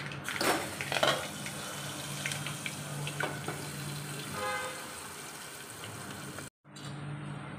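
Mustard seeds crackle and spit in hot oil in a home kitchen pan, a dense steady sizzle with scattered sharp pops that runs for several seconds before a brief cut.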